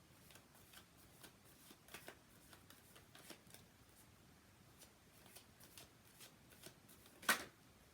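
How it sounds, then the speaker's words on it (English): Tarot cards being shuffled by hand in a quiet room, a faint run of soft riffles and taps in irregular bursts, ending in one sharper, louder snap near the end. "I'm going to get quiet and I'm going to shuffle the cards."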